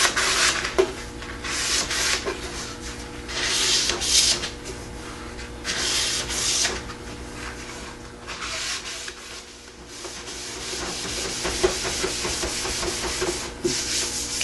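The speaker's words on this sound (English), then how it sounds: "when I'm scrubbing the top and bottom rails" A soft sponge scrubs a glazed wood finish on the top and bottom rails, giving a continuous close, hissy rubbing in repeated back-and-forth strokes that swell and fade.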